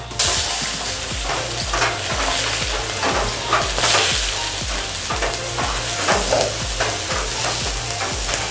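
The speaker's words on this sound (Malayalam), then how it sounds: "ഇനി നമുക്ക് ഇതിലേക്ക് നമ്മുടെ ചോപ്പ് ചെയ്ത ഗാർലിക് ഇട്ട് കൊടുക്കാം." Chopped garlic sizzles and fries steadily in a hot pan for gobi manchurian, a loud continuous crackle with repeated stirring scrapes throughout and no talking.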